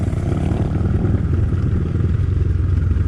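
Motorcycles, a Geon 300, BSE 250 and Skybike 250, ride uphill with a loud, steady mid-pitched engine drone and rough clattering, heard close and continuous throughout.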